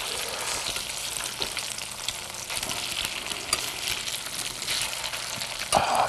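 Potato pancakes fry in a pan with a steady, loud, close sizzle that holds evenly throughout, with a brief louder flare near the end.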